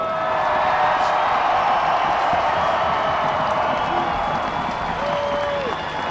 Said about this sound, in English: let's give these 2 championship teams a big round of applause.